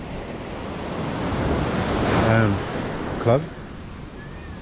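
Surf washing onto a beach at Senggigi, Lombok, a steady wind-blown roar of breaking waves with a brief voice partway through.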